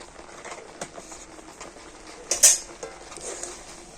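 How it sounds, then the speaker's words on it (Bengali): A spoon stirs boiled lentils with turmeric and salt in a metal pot, giving soft scraping and a few clinks against the side, with one sharper knock midway. "তো হলুদ আর লবণ দিয়ে ডালের সাথে খুব ভালো করে মিশিয়ে নেব।"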